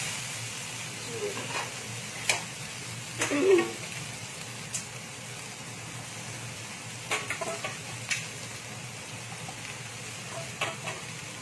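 Cumin seeds sizzle in hot oil while frying for poha, a steady soft crackle with occasional louder pops and stirring clinks, faint low voice in the background.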